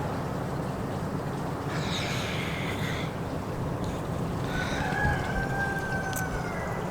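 Backyard chickens near a garden and coop, with soft clucking and a couple of drawn-out, fairly distant crowing calls over a steady noisy background, no one speaking.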